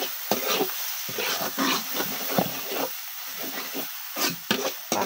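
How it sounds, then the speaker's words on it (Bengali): Spatula stirring mashed dried fish with onion greens and coriander leaves in a hot pan, a steady hiss broken by repeated scraping strokes, close and moderately loud with no talk. "এবার আর একটু ভালোভাবে নেড়ে চেড়ে নেব।"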